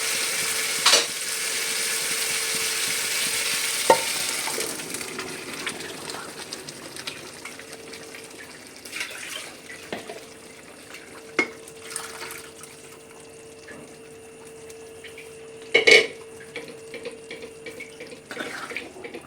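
Chana dal is stirred into spices frying in a pan, giving a low, steady sizzle that fades gradually, broken by occasional sharp clinks and scrapes of the spoon against metal.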